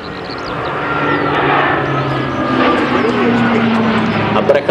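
A C-27J Spartan military transport aircraft roars at an air show as it accelerates toward maximum speed, its loud, sustained propeller and engine drone holding steady and close throughout.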